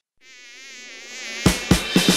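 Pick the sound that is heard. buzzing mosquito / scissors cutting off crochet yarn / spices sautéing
buzzing mosquito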